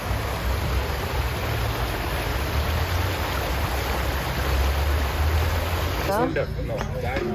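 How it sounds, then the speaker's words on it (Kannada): Steady broadband rush of river water in Sydney fills the clip, with faint voices in the background; the sound thins out abruptly near the end. "ನೀರು ಹರಿಯುವಂಥ ಶಬ್ದ ಕೇಳಿಸ್ತಿದೆ."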